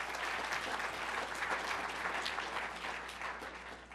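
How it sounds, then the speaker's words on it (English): An audience at a Hall of Fame event honoring Alan Page claps steadily for about four seconds, a moderately quiet, even wash of applause with no talk over it. "So let's give him a round of applause."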